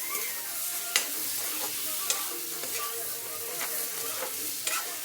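Fried egg and potatoes stirred in hot spiced oil, a continuous bright sizzle with occasional sharp taps of a spoon against the pan, close and steady.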